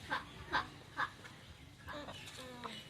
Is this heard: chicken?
yes